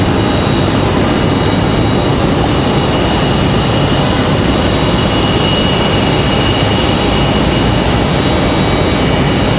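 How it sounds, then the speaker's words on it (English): An Airbus A220 jet airliner at Raleigh-Durham airport, a loud, steady broadband roar that holds unbroken throughout. "Lee Barber flying that A220 to Boston"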